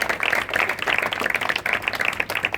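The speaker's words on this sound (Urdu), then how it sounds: "سب سے پہلے تو اپنے لیے تالیاں بجائیں کہ آپ لوگ صحیح جگہ پہ بیٹھے ہیں" Audience applause in a church congregation, a steady dense wash of many hands clapping together at a fairly close, even level throughout, with no voices standing out.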